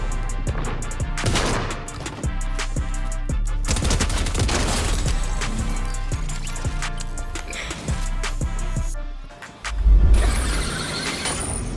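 Rapid gunfire in Fortnite Season 3 gameplay, dense bursts of automatic shots and sharp single cracks repeating almost continuously, loud and close, with a brief lull near the end before a heavy blast.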